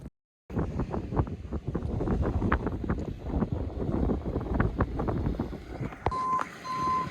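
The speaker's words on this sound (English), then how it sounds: "Tow truck is here." A tow truck arrives with a steady run of reversing beeps close by over wind buffeting the microphone and a rumbling engine, ending in a sustained higher tone.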